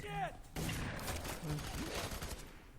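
Gunfire rattles in bursts during co-op play of the video game F.E.A.R. 3, with dense rapid shots layered under excited talking from players.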